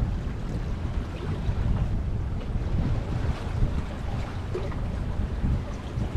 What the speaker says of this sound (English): We're surfing the waves.